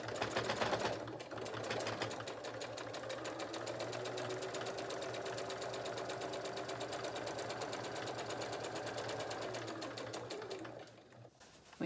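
Domestic sewing machine stitching a French seam on a fabric bag, running steadily and close for about ten seconds with a fast even whir, starting and stopping abruptly.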